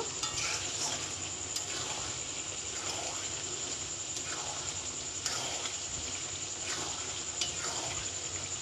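Potatoes stirred into a watery chicken skin curry, faint rhythmic scraping and swishing strokes repeating about once a second over a soft bubbling sizzle and steady hiss.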